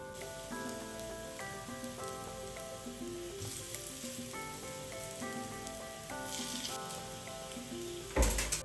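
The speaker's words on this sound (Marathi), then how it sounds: "बाकीच्या वड्या पण मी अशाच तळून घेतल्या" Coriander vadi fritters shallow-fry in a little oil, giving a constant soft crackle and sizzle. Tuneful background music plays over the frying throughout, and a brief louder rattle comes at the end.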